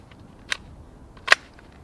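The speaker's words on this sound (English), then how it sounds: "We're gonna keep shooting." Two sharp gunshots from a small PSR17 pistol, about 0.8 seconds apart, the second louder, both crisp and fairly close with quiet between them.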